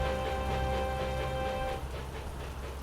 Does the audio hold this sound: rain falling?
yes